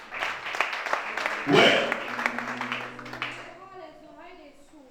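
A church congregation claps and cheers during a Gabonese worship service, a dense burst of applause that peaks briefly and then tapers off under a preacher's loud voice.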